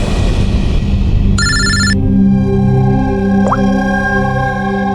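A telephone bell rings in a short electronic burst over a loud, dramatic musical score, with sustained tones and a brief plop-like effect in a Hindi crime drama scene.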